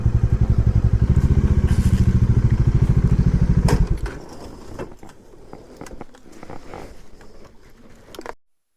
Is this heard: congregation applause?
no